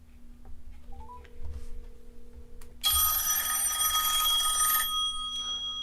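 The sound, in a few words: outgoing phone call ringing on a smartphone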